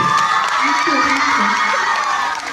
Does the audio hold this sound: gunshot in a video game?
no